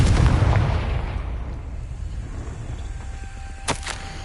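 A Confringo fire spell in Hogwarts Legacy bursts with a loud, deep boom at the start that rumbles and fades over a few seconds, followed near the end by a short, sharp crackling hit.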